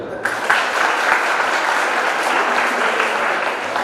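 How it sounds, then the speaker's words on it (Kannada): A crowd at a Sarvajna Jayanti celebration at a women's polytechnic college applauds steadily for a few seconds. The sustained clapping starts suddenly and keeps an even loudness, with no voices standing out. "ಒಂದು ಜಾರಾಗಿ ಚಪ್ಪಾಳೆ ಬರಲಿ"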